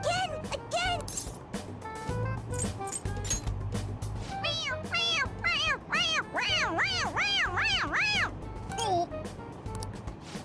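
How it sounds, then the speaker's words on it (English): A squeezable toy cat in the video game Persona 5 Royal gives a rapid run of bright, rising-and-falling meows after its head is pressed, close and clear over background game music, with voices talking around it. "It meows when you press on its head."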